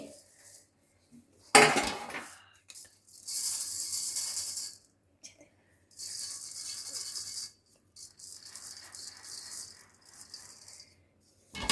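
Flour for adadiya being sifted through a metal sieve, heard as a sharp clank at the start followed by bursts of rapid rattling shakes separated by short pauses.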